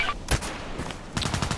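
AEK-971 rifle fire in the shooter game Contract Wars: a loud close shot, a short pause, then a quick burst of rapid automatic rounds at the end.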